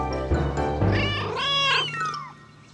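Several cartoon kittens meow in a rising, drawn-out chorus of high cries, loud and close, with a steady low tone underneath.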